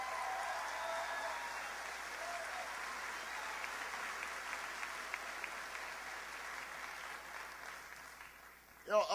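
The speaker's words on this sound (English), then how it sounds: "Give her a big round of applause." Crowd applause at a New Hampshire political rally celebrating a primary victory, a steady dense roar of clapping and cheering that holds for several seconds before a sharp sound at the end.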